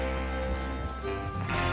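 Horses gallop in Red Dead Redemption 2, a steady rolling clip-clop of hooves that stays loud and close throughout, with no talk.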